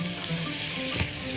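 Garlic fries in butter in a deep wok, a brief close sizzle and crackle with a low hum, lasting just over a second with no voices.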